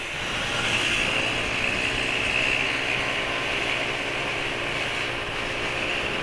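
A motorcycle engine runs steadily at a constant idle-like speed, a fairly faint, even hum with a hissy mechanical edge and no changes in pace, alone without any talking.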